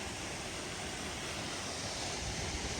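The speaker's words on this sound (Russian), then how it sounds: "Водопад реально очень мощный," A powerful, large waterfall gives a steady, dense roar of rushing water, distant-sounding and even throughout, with no voices.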